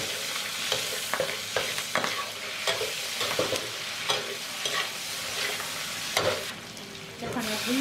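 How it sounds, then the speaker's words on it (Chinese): A close, steady sizzle of homemade doubanjiang chili bean paste stir-frying in a wok, punctuated by repeated scraping and clanking spatula strokes, with no talking. "把我们自制的豆瓣儿拿下去炒一下"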